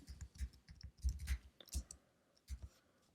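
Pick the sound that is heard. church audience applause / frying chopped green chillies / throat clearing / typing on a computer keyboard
typing on a computer keyboard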